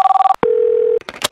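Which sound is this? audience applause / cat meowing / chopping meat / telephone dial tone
telephone dial tone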